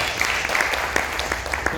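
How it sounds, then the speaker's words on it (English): Brief, dense applause from a conference audience honoring the speakers at an education panel session, even clapping filling the short span without a break. "Let's give a round of applause for our"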